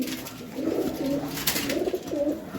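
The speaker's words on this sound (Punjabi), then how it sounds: "ਹੁਣ ਆਪਾਂ ਤੁਹਾਨੂੰ ਦਿਖਾਉਣਾ ਕਿ ਕਾਲੇ ਚੀਨੇ ਕਬੂਤਰ" Black Chinese pigeons give repeated low, rolling coos close by, several phrases following one another over a constant ambient hiss.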